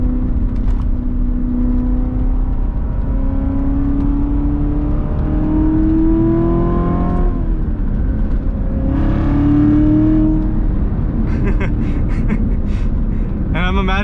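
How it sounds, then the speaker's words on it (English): C7 Corvette Z06 engine revving through rev-match downshifts, rising and falling exhaust tones with sharp blips, loud and close inside the cabin while a driver talks over it. "cover the gas pedal to rev match downshift"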